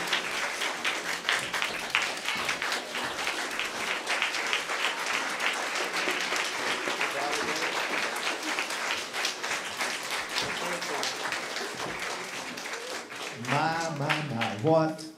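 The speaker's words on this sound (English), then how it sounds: "How about a big round of applause?" An audience gives a big round of applause and a standing ovation at a Christmas show in Detroit, sustained dense clapping throughout with voices talking over it, and a singing voice emerging near the end.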